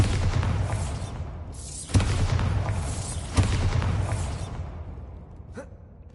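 Bombarda blasting spell in Hogwarts Legacy going off, two loud sharp blasts a second or so apart, each followed by a broad rumbling roar that slowly fades, with no talking.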